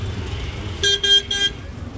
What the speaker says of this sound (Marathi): इकडे ट्रॅफिक झालं आहे बेकारवालं